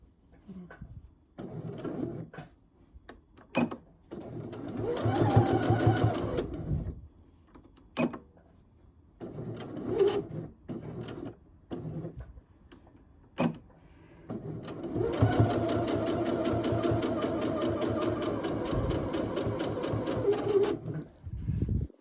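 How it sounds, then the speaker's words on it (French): A domestic sewing machine stitches back over the pocket flap seam of a tailored jacket, with a backstitch at the start and the end. It runs in short bursts, then in one long steady run, close and clear. "je vais repiquer dans la piqûre du rabat avec un arrêt au début, un arrêt à la fin"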